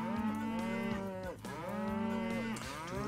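Cows lowing in the farming game Farming World, several long harmonic moos one after another, loud and close with no talk.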